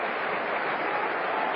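Ipswich Town fans applauding as injured player James Scowcroft leaves the pitch during a Norwich City match, a steady wash of stadium clapping that holds at an even level throughout, with no voices standing out.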